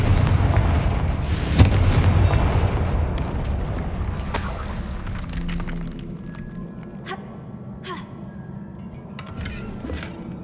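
Bombarda and Confringo blasting spells fire in the game Hogwarts Legacy, producing loud booming explosions with crackling, shattering debris that rumbles and fades away, with a few sharp secondary impacts afterward.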